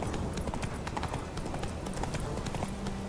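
Roach, a horse in The Witcher video game, galloping with a fast steady clip-clop of hooves, close and continuous over a low rumble of game ambience.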